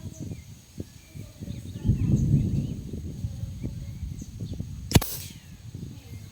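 A Benjamin Fortitude regulated PCP air rifle fires a single shot during a 25-metre grouping test. It gives one sharp, near crack over a quiet outdoor background with faint birds.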